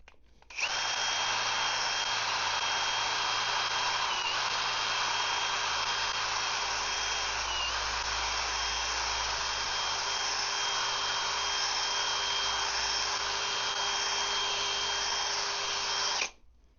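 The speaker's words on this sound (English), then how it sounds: "now we'll start using the wool pad to start taking it off now with a bit more high speed" Machine polisher fitted with a wool pad whirring at high speed on car paintwork, a steady loud drill-like whine that starts abruptly and runs unbroken for about sixteen seconds before cutting off.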